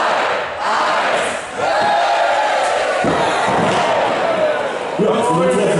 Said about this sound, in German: Ein Applaus für den ersten Wurf.